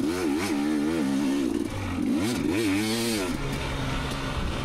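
A 2019 KTM 250xc two-stroke dirt bike rides off-road at Johns Peak OHV, its engine loud and close, wailing up and down through repeated revs and throttle blips with a rough, buzzy tone.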